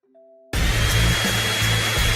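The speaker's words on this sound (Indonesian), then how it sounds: "Kamu hanya perlu meniupnya dengan pengering rambut." A hair dryer switches on after a short faint hum and blows steadily at full power, a loud, close, continuous whoosh of air with a low motor drone and no talk.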